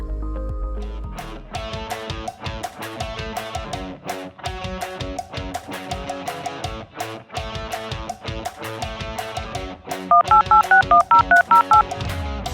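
A rapid run of telephone keypad tones beeps over a bouncy electronic tune in a video game, several quick dial tones near the end standing out loudly.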